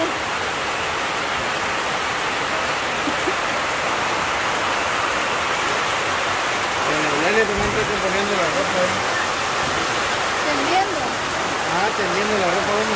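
Rain pours steadily outdoors as a dense, continuous hiss, with a car passing and people talking over it.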